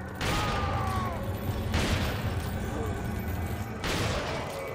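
Shotgun blasts in Resident Evil 4 gameplay, two or three loud broadband booms spaced about two seconds apart over a dense game soundscape with effects.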